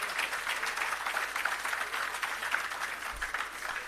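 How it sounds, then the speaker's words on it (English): Applause from an audience at the official opening of the Parnassus Agro Park: a faint, distant, even patter of clapping that holds steady for a few seconds. "That deserves a big round of applause."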